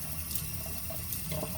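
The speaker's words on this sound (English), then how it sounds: "water just keeps dropping down" Water running steadily down a sink drain just cleared with Instant Power hair clog remover, a continuous near trickling and gurgling flow with no talk.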